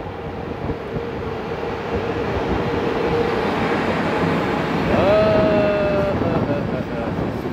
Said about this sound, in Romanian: Între timp vine alt tren.